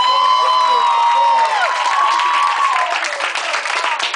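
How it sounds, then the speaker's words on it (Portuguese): A lively audience claps and cheers, loud and close, with high whoops and shouts riding over the dense applause while voices call out in the mix. "mais palmas, mais palmas"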